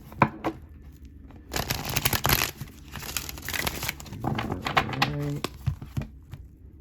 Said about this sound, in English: Let's get a good shuffle in.